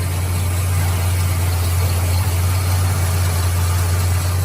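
A Plymouth Road Runner muscle car idles steadily, a deep, loud low rumble with constant engine vibration and no change in revs, heard close and alone.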